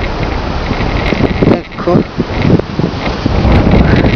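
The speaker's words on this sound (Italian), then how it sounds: "Abbiamo il vento" Wind blowing across a park maze in Lugano, a continuous buffeting rush against the microphone with brief dips and gusts, under someone speaking briefly.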